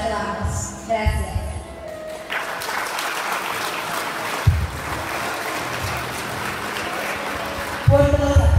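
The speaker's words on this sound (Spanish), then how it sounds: "Fuertes los aplausos para estas últimas palabras de Dani" Applause breaks out at a high school graduation ceremony after a student's farewell speech, a crowd clapping steadily and fairly close, with a brief voice at the start and a microphone sound near the end.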